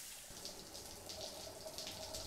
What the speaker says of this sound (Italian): Ci facciamo una doccia.